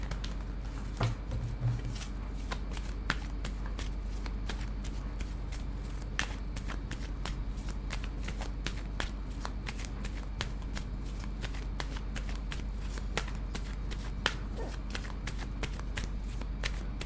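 Tarot cards being shuffled over and over, a steady stream of quick papery riffles and soft slaps, close and fairly quiet, continuing without talk for the whole stretch.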